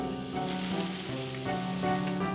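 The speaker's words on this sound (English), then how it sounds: "When it's sizzling nicely" Steady frying sizzle of butter and oil in a hot pan, a continuous crackling hiss with soft pops, no voices.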